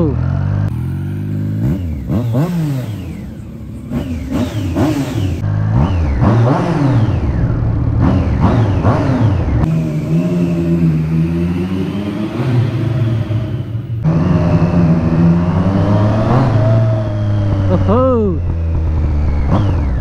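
A Triumph Street Triple engine revving and accelerating on a test ride, the pitch repeatedly sweeping up and dropping through the gears, loud and close, with a rider's voice heard over it.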